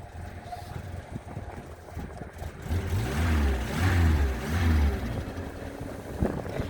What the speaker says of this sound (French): Ah bah maintenant c'est le moteur qui déconne.